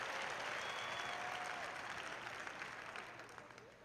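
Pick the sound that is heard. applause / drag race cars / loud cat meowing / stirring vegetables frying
applause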